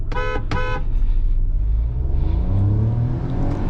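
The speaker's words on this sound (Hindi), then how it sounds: "हॉर्न मैं दूं?" Two short, loud car horn toots sound to start a drag race between two Hyundai i20 N Lines, followed by a deep engine rumble that swells as the cars accelerate.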